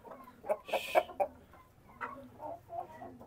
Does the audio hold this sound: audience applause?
no